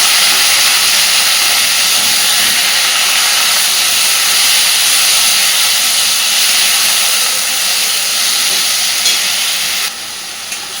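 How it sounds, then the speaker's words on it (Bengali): Onion paste frying in a pan with potatoes for a pointed gourd kofta curry, giving a loud continuous sizzling hiss that holds steady for several seconds and drops slightly near the end, with no talking. "মোটামুটি 3 চামচ মতো দিয়ে দিলাম পেঁয়াজ বাটা।"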